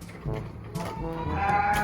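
Goats bleat near a farm in the Philippines, a short burst of two or three wavering calls rising over low background murmur.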